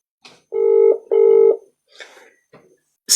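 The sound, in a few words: telephone dialing tones while calling someone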